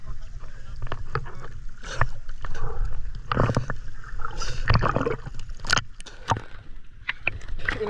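A paddle works a fishing boat through the sea, with splashing strokes and gurgling water close by under irregular bursts of talk and background voices.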